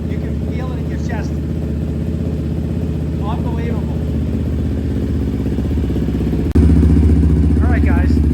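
A Yamaha Raptor 700 ATV fitted with a Dasa exhaust idles loudly up close with a deep, steady rumble that suddenly jumps louder near the end, while someone speaks briefly over it.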